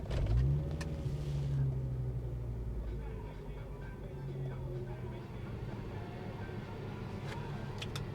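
A broken-down car's engine turns over and runs with a low steady rumble and a brief rev near the start, close by, with no voices over it.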